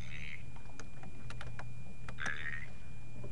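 Keys on a computer keyboard tapped in a few sparse, separate clicks while sight words are entered, faint and close against a steady low hum, with no talking.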